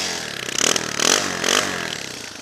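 A motorcycle engine cranked on its electric starter and catching, a buzzing, clattering churn with three surging pulses in quick succession, loud and close.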